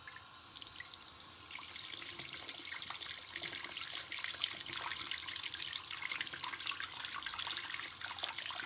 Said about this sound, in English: So if I turn this down, you definitely want some hot water.